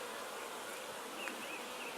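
A swarm of bees flies around a tree, a steady diffuse hum of many wings filling the air at moderate level, with occasional individual bees buzzing closer past.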